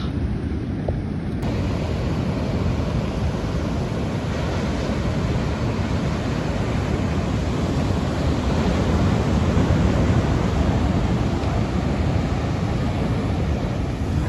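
Sea waves at Varkala beach in Kerala wash in as a continuous broadband roar of surf, loud and steady throughout, with wind buffeting the microphone and no voices.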